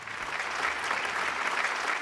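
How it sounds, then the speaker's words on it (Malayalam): Steady applause from a local crowd in a TV studio audience, a dense unbroken wash of clapping hands, moderately loud and continuing for about two seconds with no voices over it. "അതാ നാട്ടുകാരുടെ വകയായിട്ടൊരു കയ്യടി"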